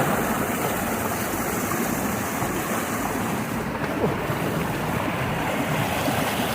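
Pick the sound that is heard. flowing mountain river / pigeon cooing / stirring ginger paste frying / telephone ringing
flowing mountain river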